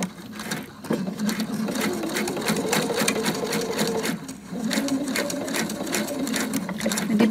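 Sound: sewing machine stitching a belt

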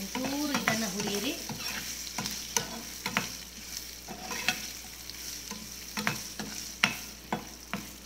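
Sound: frying dry red chillies in oil

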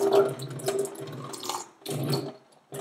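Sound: water running down a drain

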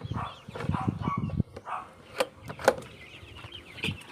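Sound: chickens, Shamo and Asil cross breeds, in a coop

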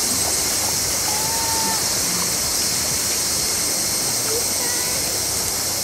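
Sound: flowing creek water

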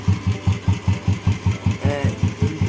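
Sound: Royal Enfield Bullet motorcycle engine during gear shifting

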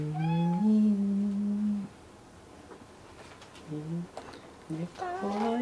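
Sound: kitten meowing

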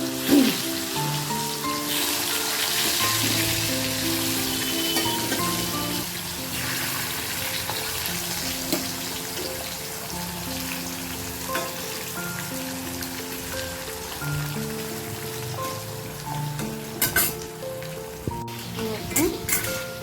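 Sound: potatoes frying in oil

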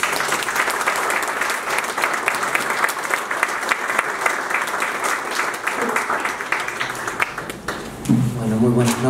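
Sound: audience applause welcoming a speaker

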